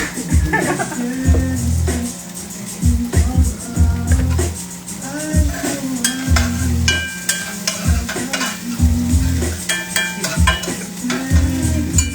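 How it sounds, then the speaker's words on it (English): Shallots sautéing and being stirred in a pan, with steady sizzling and frying broken by scraping and stirring strokes, plus occasional clinks of pan and utensils; music and a voice come through faintly underneath. "Now we're just sauteing our shallots."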